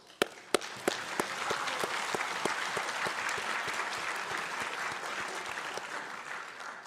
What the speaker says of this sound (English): I want to applaud the faculty and staff who have worked tirelessly to prepare the next generation of leaders